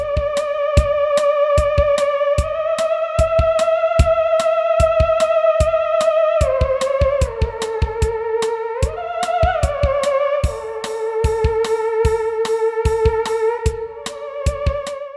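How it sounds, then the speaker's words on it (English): A theremin plays a sustained, gliding melody with smooth pitch slides and vibrato, loud and close, over a steady rhythmic electronic beat with regular percussive pulses and no talk. "This is the sound of the theremin."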